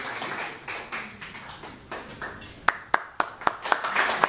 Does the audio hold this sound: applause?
yes